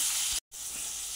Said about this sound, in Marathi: पनीर तळताना थोडंसं ह्याच्यामध्ये चिमूटभर मीठ टाकायचं